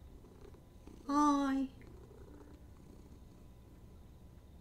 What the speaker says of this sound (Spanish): No sabía que podía ronronear aún.